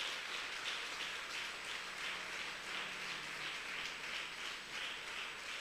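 A church congregation applauding the Lord with soft, distant, continuous clapping in gentle swelling waves, faint and hissy like rain, with no voices over it.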